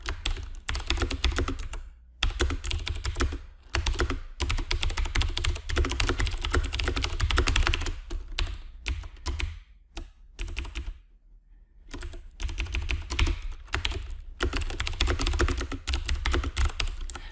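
Rapid clicking of a computer keyboard as someone types text into an R notebook, with close, steady bursts of keystrokes broken by a few short pauses and no speech.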